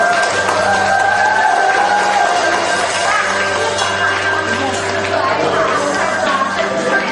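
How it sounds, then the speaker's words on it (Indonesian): Guests at a church wedding blessing applaud amid loud crowd noise and music, a continuous wash of clapping mixed with talking voices. "Boleh berikan tepuk tangan?"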